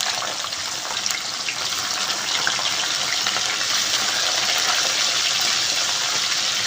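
Diced peppers hit hot oil for an Egyptian moussaka sauce, a loud steady broadband sizzle and crackle of frying that holds evenly throughout, close and uninterrupted by talk.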